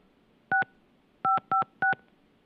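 Keypad tones from a phone number being dialed: one short beep, a pause, then three more quick beeps in a row, clear and alone against a quiet background.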